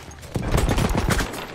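Rapid gunfire in Battlefield 1, a dense burst of shots running nearly continuously, loud and close, with no talk over it.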